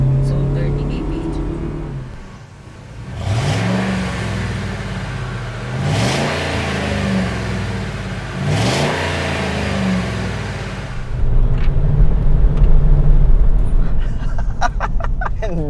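A car engine climbing in pitch as the throttle opens past halfway, revving in repeated surges and then holding louder and steadier toward the end, with a person talking over it.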